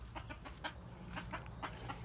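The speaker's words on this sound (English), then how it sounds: "We got those 5 chickens." A small flock of five backyard chickens clucks in soft, repeated bursts at a steady, uneven pace. The birds sound close but quiet, with no other sounds.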